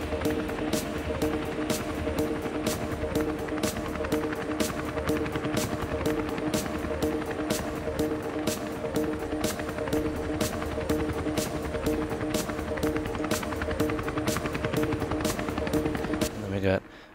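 Throbbing helicopter rotor effect in a music production, a steady loud rhythmic thump with a sustained hum running the whole way through and fading out abruptly at the end.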